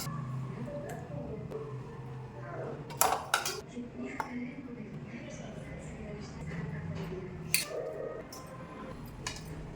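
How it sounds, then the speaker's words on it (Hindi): Food is plated into a metal thali, with a few light clinks and scrapes of dishes and serving utensils against the metal, heard under someone talking continuously. "यहाँ पर लगा लेती हूँ अच्छे से थाली में"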